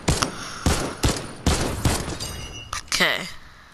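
A tactical assault rifle fires a rapid burst of loud, sharp shots at regular intervals in Fortnite, each crack ringing out before the next, ending with a brief metallic ricochet.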